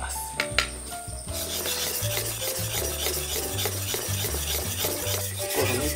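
A dulled machete and sickle are honed on a 1000-grit whetstone, close rhythmic rasping strokes repeating back and forth at a steady pace after a few sharp knocks at the start, with no speech.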